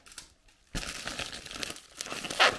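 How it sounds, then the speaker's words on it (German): A sealed oil sample bottle for engine oil analysis slides into a paper envelope with a sudden burst of crinkling paper, followed by continued rustling and a louder crackle near the end, with no speech. "Also rein in den Umschlag."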